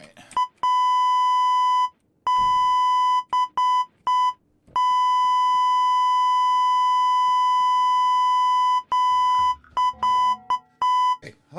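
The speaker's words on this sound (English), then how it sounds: "I think I was, hitting the beeping noise there" A steady electronic tone beeps in long and short bursts, loud and close with abrupt on and off cuts, during a live session of the Baldur's Gate 3 video game.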